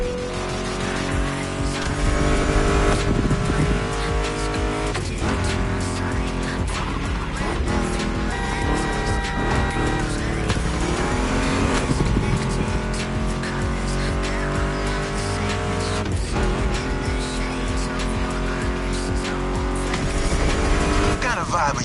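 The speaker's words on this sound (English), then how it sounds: "Meshes well with the sound of the engines, you feel me?" A Ford Mustang GT muscle car engine roars and revs in the racing game The Crew Motorfest, with tire squeals, set against loud continuous music with a voice talking over it.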